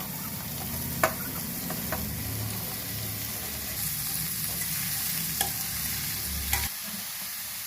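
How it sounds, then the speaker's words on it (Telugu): Beetroot, carrot and potato pieces frying in a pan with turmeric and chillies give a steady, close sizzle, while a utensil stirs and scrapes the pan with a few sharp clinks. The sizzle cuts off abruptly near the end. "ఈ కూరగాయలు మొత్తం వేసేస్తున్నాను. Beetroot, carrot,"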